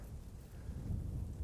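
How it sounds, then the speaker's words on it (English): Strong wind rumbles and buffets the microphone in a continuous low roar, swelling slightly toward the end. "Man, it's windy."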